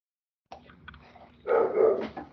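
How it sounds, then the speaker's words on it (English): A dog barks during a board meeting call, a few short sharp barks followed by a louder, longer bark, heard alone over a quiet background. "I apologize for the barking dog."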